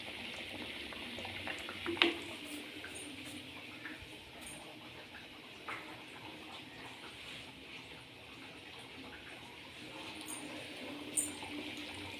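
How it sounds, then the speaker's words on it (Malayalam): A pot of coconut milk fish curry bubbles and simmers quietly and steadily, with an occasional soft clink nearby. "അങ്ങനെ കറി നന്നായി തിളച്ച് വന്നിട്ടുണ്ട്"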